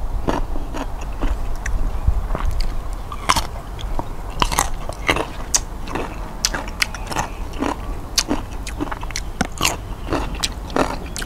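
Crunchy, sour maprang fruit is bitten and chewed up close, with repeated sharp crisp bites and wet crunching continuing steadily throughout, with no talking.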